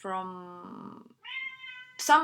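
Hungry cats meow close up in a few drawn-out calls, then a brief pause before a final sharper cry.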